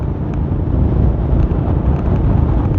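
Heavy wind blast buffeting the helmet microphone on a motorcycle without fairing, ridden at about 80 km/h, a constant loud low roar with no break.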